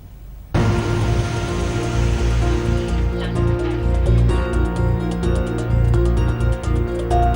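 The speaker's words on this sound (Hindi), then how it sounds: "एक 180 मिनट तक लगातार हुई जोरदार बारिश ने पूरे एनसीआर में हाहाकार मचा दिया।" Heavy monsoon-style rain in the Delhi NCR pours down in a dense, steady roar, starting abruptly after a brief quiet moment and continuing loudly throughout.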